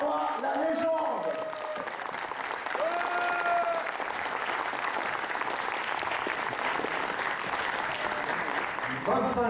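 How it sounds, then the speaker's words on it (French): Sustained applause from a crowd at a fan event in Monaco, dense and steady for several seconds, with voices and cheers mixed in near the start. "vous pouvez maintenant applaudir Monsieur Terazawa, la légende"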